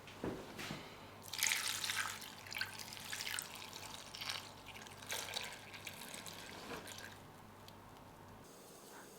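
Semi-skimmed milk poured into a pan over leftover cauliflower pieces, a steady liquid trickle with drips and splashes, loudest early on and thinning out toward the end, with no talking.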